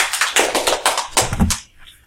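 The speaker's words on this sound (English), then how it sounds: "There's thunderous applause" Scattered clapping from a small group after a classroom paper presentation, a handful of sharp close claps in uneven rhythm that thin out and stop near the end.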